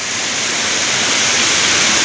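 Water of Chandranagar waterfall in Dapoli, Konkan falls from a height in a steady, loud broadband roar that holds unchanged throughout, with no voices.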